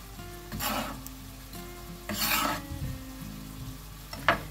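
Ingredients for hake and prawn meatballs frying in a pan, with bursts of sizzling and stirring scrapes recurring about three times over a low steady hum, fairly close and moderately quiet.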